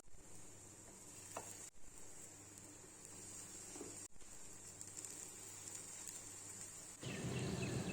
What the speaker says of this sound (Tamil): இப்போ இதை நம்ம தோசைக்கல்லில் சேர்த்துடலாம்